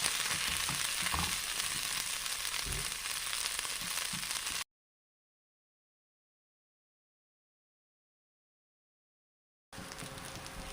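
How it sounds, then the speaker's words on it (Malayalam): Potato snack frying in hot oil, a steady bubbling sizzle that runs for several seconds, cuts to silence, then returns briefly near the end. "ഫ്രൈ ആകുന്നവരെ ഇടുക."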